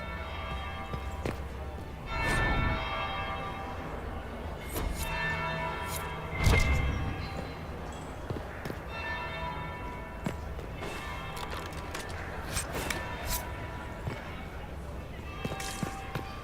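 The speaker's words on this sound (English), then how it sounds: "That will be the second bell." Bells chime in a video game set at a grand duchess's party, ringing over a steady bed of music and ambience with footsteps, while voices talk throughout.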